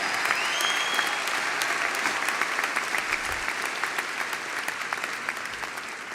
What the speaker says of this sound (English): Give the faculty, please, a big round of applause